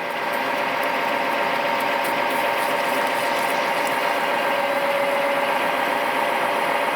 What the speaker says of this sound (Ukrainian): отвір свернем поперек